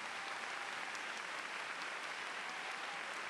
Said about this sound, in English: All members of the school board, please stand and give them a round of applause